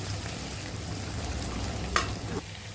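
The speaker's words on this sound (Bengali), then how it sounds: "টমেটো দিয়ে একটু ভাজা ভাজা করে নেব।" Tomato, onion, green chilli and potato fry in leftover fish oil, giving a steady soft sizzle throughout with a brief stirring scrape near the end.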